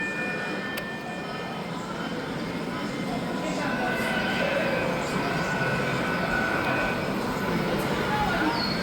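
Two model train units at an indoor train display pass by with a continuous, dense rumble and faint wheel squeal. A crowd murmurs and people talk in the background throughout.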